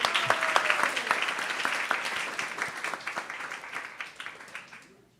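Steady audience applause at a Krishna Katha gathering at ISKCON of Silicon Valley, a dense run of clapping lasting about five seconds before it tapers off and fades to quiet.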